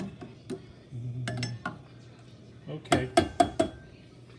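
Cooked quinoa being mixed in a dish with a spoon, producing scattered scrapes and a run of sharp clinks of metal against the dish near the end, with a brief spoken word amid the clatter.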